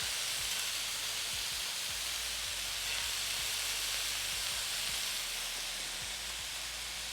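Steak bites searing in a buttery garlic pan make a constant soft sizzle and hiss, with faint low thumps scattered through and no voices.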